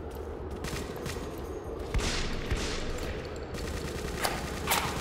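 Gunfire in the World War II shooter game World War Heroes, rapid crackling bursts of shots with a few sharper cracks standing out, continuous and moderately loud with no talking.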